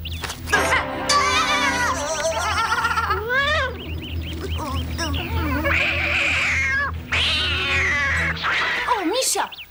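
Cartoon cats meow and caterwaul almost continuously, with wavering, drawn-out cries layered over a busy soundtrack and voices, loud and close throughout.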